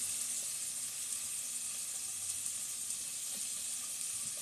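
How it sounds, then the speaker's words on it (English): Beef stew pieces seasoned with soy and pepper sear in a hot pan, giving a steady, even sizzle and hiss that holds at one level throughout with no voices over it. "now we're going to separately sear off all the beef stew"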